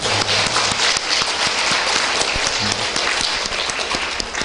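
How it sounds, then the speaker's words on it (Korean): A church congregation claps in praise of God at the close of a sermon, producing a loud, dense and continuous roll of hand claps with sharp individual slaps throughout, plus a brief low murmur of voices. "하나님께 영광의 박수를 드리겠습니다."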